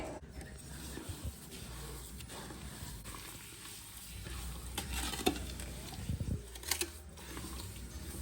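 Orange wine ingredients being stirred in a container: steady scraping and swishing strokes with a soft watery churn, close and moderately loud, with a few sharper clinks near the end.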